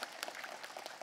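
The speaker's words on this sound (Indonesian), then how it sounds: "tepuk tangan dulu." Applause from a studio audience during a Ramadan religious talk show, a short burst of scattered, moderately quiet clapping with no voices over it.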